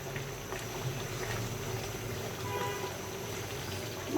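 Rohu fish head simmering with potatoes and long beans in a soupy curry, a steady low bubbling from a covered pot, even and continuous with no talk.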